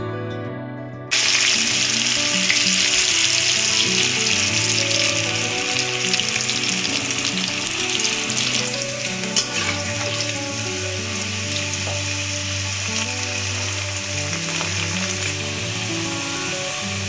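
Food frying in a pan of hot oil for a home-cooked vegetarian lunch, a loud, sustained sizzle that kicks in after a brief silence and continues with occasional stirring scrapes.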